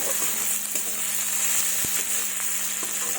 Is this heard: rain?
no